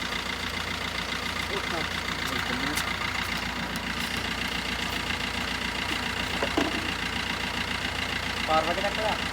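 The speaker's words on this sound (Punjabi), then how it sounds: "ਮੋਟਰ ਚੱਲ ਰਹੀ ਐ" An electric water pump motor runs with a steady, unbroken mechanical hum for the whole stretch, while voices talk over it nearby.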